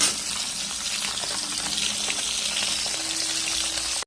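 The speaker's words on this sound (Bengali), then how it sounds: "বন্ধুরা এক পিট মাছ ভাজা হয়ে গেছে তাই জন্য উল্টে দিলাম দেখো" Pieces of bhola fish sizzle in hot oil after being flipped, a dense, loud, even hiss of frying that holds steady from start to finish.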